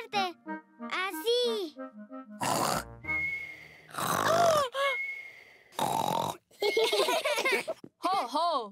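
A cartoon pig voice imitates loud snoring in short bursts of grunting snorts, alternating with a child's cartoon speech.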